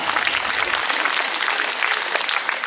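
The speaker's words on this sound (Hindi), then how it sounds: "सो मन ताली बजा" An audience claps steadily at a Women's Day (Mahila Diwas) ceremony, dense continuous applause, loud and close, with no voices over it.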